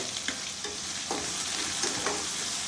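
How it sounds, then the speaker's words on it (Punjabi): Tadka tempering sizzling and crackling in a hot pan, a steady frying hiss with brief spitting pops and stirring scrapes, close and moderately loud, with no talking. "ਉਹ ਲਾ ਤਾਂ ਤੜਕਾ ਕਿਆ ਬਾਤ ਜ਼ਬਰਦਸਤ ਤੜਕਾ"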